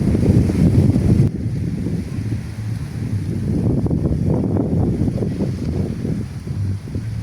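Steady wind buffeting over the sea at Kuya Rogers Beach Resort in Lubok, with a continuous low rumble and surf washing beneath it, loud and unbroken throughout with no voices.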